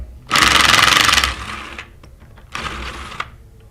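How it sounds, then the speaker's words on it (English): A 3/8 drive impact gun rattling bolts loose on the discharge manifold of a Versamatic 1½ inch clamped metal pump, two loud close bursts, the first about a second long, the second shorter. "Today we're going to use a 3/8 drive impact gun for ease of assembly and disassembly."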